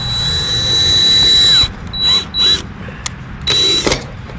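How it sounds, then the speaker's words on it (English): A drill bores holes in a seamless gutter, with loud whining bursts that start and stop several times, the longest first, then shorter spurts separated by pauses. "we're just going to start a couple holes here from the back side just to get it started"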